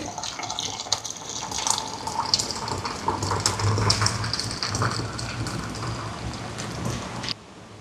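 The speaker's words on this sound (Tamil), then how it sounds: "தண்ணி பாருங்கள் நல்லா பொங்க பொங்க கொதிச்சுட்டு" Water boiling hard in a pot for making Jaffna-style puttu, a continuous bubbling, rushing hiss heard close up at a fairly even level that cuts off abruptly near the end.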